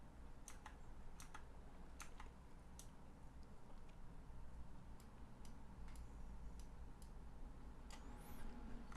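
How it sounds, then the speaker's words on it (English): Rapid keyboard-style clicking sound effects laid over a Minecraft speedrun, scattered sharp ticks and taps at an irregular rhythm over a steady low background hum, no talking. "here I'll add a shit ton of clicking noises"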